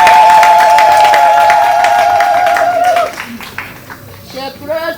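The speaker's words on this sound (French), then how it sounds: "Applaudissons pour la fête" A congregation at a thanksgiving church celebration claps together, a loud burst that drops off after about three seconds into scattered claps, with a sustained tone over the opening and voices heard beneath.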